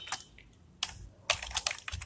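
Computer keyboard keys tapped while typing code, a short burst then a pause and a faster cluster of clicks, close and fairly quiet.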